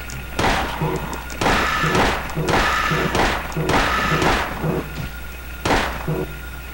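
Gunfire in the Silent Hill video game, fired wastefully over and over: about seven heavy, booming shots in an uneven rhythm, each a loud thudding burst that fades before the next, with a low steady hum underneath.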